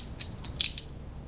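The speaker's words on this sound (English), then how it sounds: "Pull the blade open" A multi-tool's butterfly-knife-style blade swinging open, a quick run of small metallic clicks and creaks over about a second, close and faint against low background rumble.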